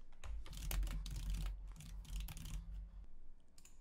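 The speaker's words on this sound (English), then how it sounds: "All I need to do is quickly type a subject" Someone typing the subject of a support ticket on a computer keyboard, a short close run of quick, soft key clicks with a low hum beneath and no speech.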